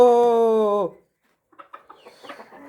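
Fawn silkie hens in a backyard poultry enclosure: one loud, drawn-out, tonal hen call lasts almost a second and breaks off, then after a short silence soft, scattered clucks and chatter follow.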